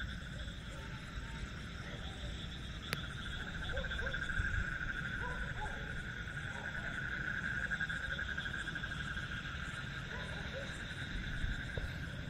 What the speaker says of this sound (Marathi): तर हे बेडकांचा आवाज आहे.